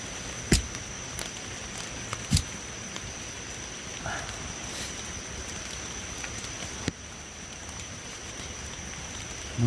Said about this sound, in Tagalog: Nabutan pa tayo ng ulan.